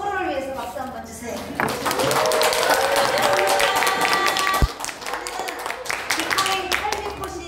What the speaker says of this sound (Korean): 서로를 위해서 박수 한번 주세요.